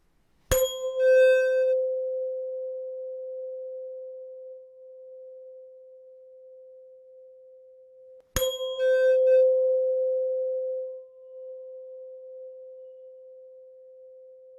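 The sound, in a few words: struck tuning fork ringing and fading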